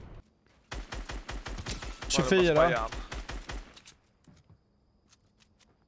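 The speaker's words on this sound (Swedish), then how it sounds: "Men jag kan inte spraya med det här vapnet, skotten hoppar ju all världens väg." Rapid automatic gunfire sprays from a weapon in the video game Fortnite, a long burst of sharp, evenly spaced shots that overlaps with people talking mid-burst before it cuts off, leaving only faint noise.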